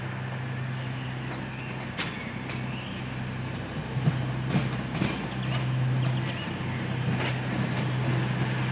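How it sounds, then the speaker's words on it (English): A Virgin train from London Euston pulls into a station platform with a steady rolling rumble and low mechanical hum, plus occasional clanks and brief high squeals as it slows. "Train now approaching platform 5, 1823, Virgin Supervisor service from London Euston."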